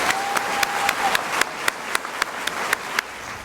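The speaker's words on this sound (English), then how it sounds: "Lakeview Elementary, give them another round of applause." Audience applause at a school awards event for Lakeview Elementary, sounding as a steady, even patter of many hands with regularly spaced louder claps standing out, continuing throughout.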